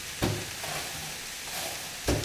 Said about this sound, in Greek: Ανακατεύουμε σε δυνατή φωτιά